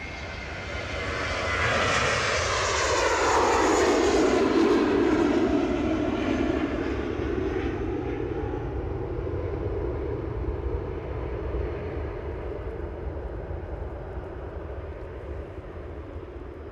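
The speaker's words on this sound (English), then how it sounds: "Another helicopter inbound." A helicopter flying inbound to land at Aberdeen airport, a loud steady rotor and engine roar that builds quickly, peaks within a few seconds, then holds and slowly fades as it passes.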